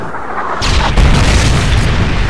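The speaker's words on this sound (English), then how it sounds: "Friendly Predator missile inbound." A Predator missile strikes in a military shooter video game, a deep heavy boom that erupts suddenly and rolls on as a sustained rumbling blast, loud and close, with no talk.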